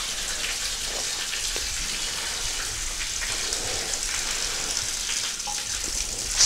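Hot water running steadily from an outlet at an old luxury spa, a continuous hiss-like splashing flow that stays even throughout, fairly close with no talk over it.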